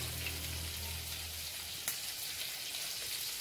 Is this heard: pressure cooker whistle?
no